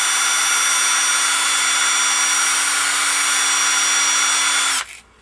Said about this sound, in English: Hold the sandpaper against the insert, run the drill.